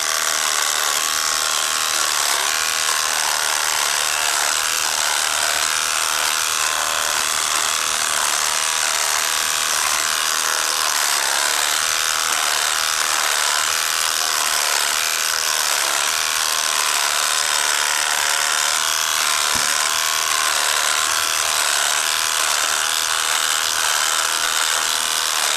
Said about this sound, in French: Ouais là vraiment, elle veut plus là, la tondeuse.